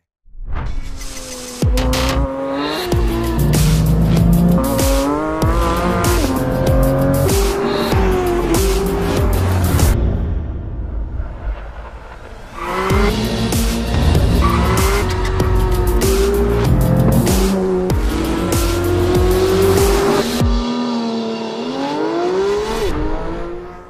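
Loud Porsche 911 GT3 engine, a high-revving, naturally aspirated 4-liter to 9,000 RPM, revving hard through gears, rising and falling pitch with tire squeal, a brief lull midway before roaring up again.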